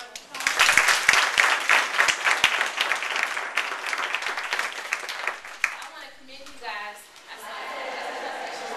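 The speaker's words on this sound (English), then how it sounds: "let's give Connie a round of applause." An audience applauds for Connie with a loud burst of clapping that swells, then gradually thins and fades. Scattered chatter and a voice follow near the end.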